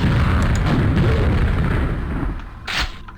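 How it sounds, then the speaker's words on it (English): Radioactive containers exploding in the Aftershock video game: a heavy, continuous roaring boom with a fresh burst near the end, loud and close, with no talking. "I can't waste time trying to blow up all the radioactive containers"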